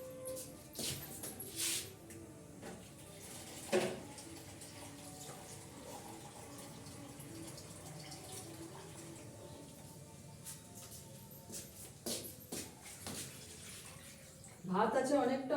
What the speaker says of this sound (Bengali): একটু জল দিয়ে দেবো।